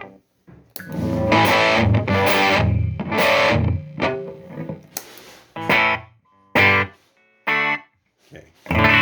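Electric guitar played through a Peavey Triumph 60 amp with the reverb off, switching to the humbucker: strummed chords and short stabs ring out loud and dry, with brief gaps and choppy stops toward the end.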